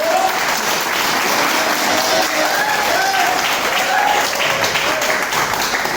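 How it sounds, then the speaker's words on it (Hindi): A large audience at a motivational speech in Jaipur claps continuously, a thick steady wall of applause holding at even loudness throughout with faint voices showing through. "तालियां दिल से"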